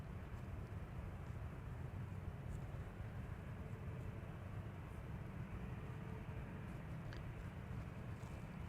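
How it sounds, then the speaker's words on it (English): A Boeing 787 Dreamliner departing Amsterdam Schiphol Airport gives a steady, distant broadband jet roar that holds at an even level throughout, with no voices. "And there's the Dreamliner to Cancun, Mexico."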